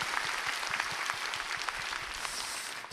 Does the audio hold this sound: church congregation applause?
yes